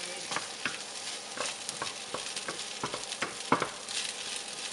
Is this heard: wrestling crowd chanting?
no